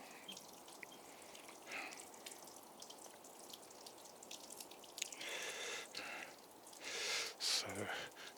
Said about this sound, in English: So I'm just gonna give these a good water